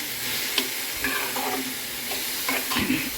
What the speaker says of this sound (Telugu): ఇక ఒక్క నిమిషం ఇట్లా కొంచెం ఫ్రై చేస్తే పచ్చి వాసన లేకుండా